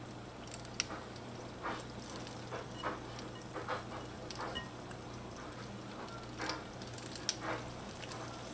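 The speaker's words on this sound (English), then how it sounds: "You're gonna pick up portions of your Ackee mixture and place it into your hot oil." Small ackee and saltfish fritters sizzle steadily in hot oil, a continuous crackling fry with occasional louder pops and spatters, close and moderately quiet with no talking.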